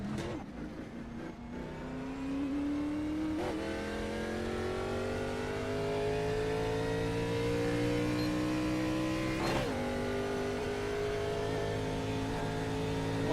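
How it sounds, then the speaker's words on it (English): Stock-car engines roar in a NASCAR racing video game at Daytona: a loud, steady high-pitched drone that climbs gradually in pitch as the car accelerates, with two brief sharp clicks and no talking. "Man, listen to those engines purr."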